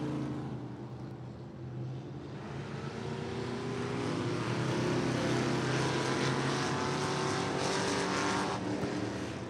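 Factory stock race cars circle the Western Kentucky Speedway in hot lap qualifying, their engines a steady droning roar that gradually builds and stays loud as the cars pass.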